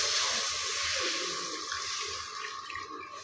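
Water pours steadily into an iron kadai, a continuous splashing rush at close range that slowly thins out over a few seconds.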